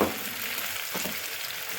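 Onion, garlic and tomato sizzle and crackle steadily in a big pan, a close, constant hiss of stir-frying with brief stirring scrapes and no voices.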